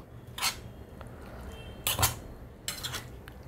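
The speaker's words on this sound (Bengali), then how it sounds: "এগুলো সব একসাথে আমি মিশিয়ে নেব।" A spoon clinks and scrapes against a bowl while chicken mayonnaise sandwich filling is mixed, three distinct bright bursts of metal on dish spaced about a second and a half apart over a quiet background.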